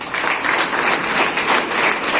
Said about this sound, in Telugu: ఒకసారి మరోసారి క్లాప్ కొట్టండి తనకి